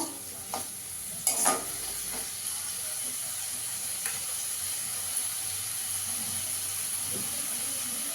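Tomato and ginger-garlic paste sautéing in a pan, a steady close sizzle and hiss with a few clinks of a stirring utensil early on; no one speaks.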